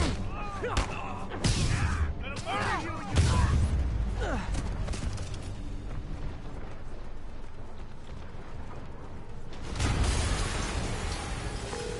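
Blasts and heavy rumbling from an explosion in the Marvel's Spider-Man PS4 game, a loud burst early and another later, mixed with crackling debris and background game sound.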